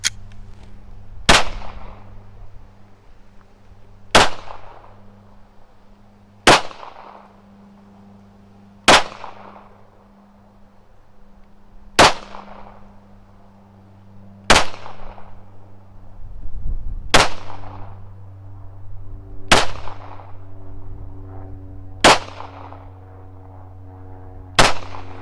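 Small pistol primers, then small rifle primers, fired one at a time: ten sharp, loud cracks spaced a few seconds apart over a faint steady hum.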